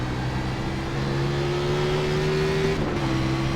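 A race car engine in the iRacing video game at Circuit of the Americas drones at high, steady revs, its pitch climbing slightly as it accelerates, loud and continuous with no talk.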